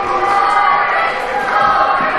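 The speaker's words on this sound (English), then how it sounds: "this crowd's getting fired up" Wrestling arena crowd roaring and cheering loudly at a live RWA event, a dense, sustained wall of voices with yells rising through it.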